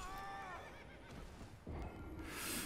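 Horse in Elden Ring giving a clear, drawn-out whinny with wavering pitch, close and prominent, followed by a few hoof clops and a soft thud.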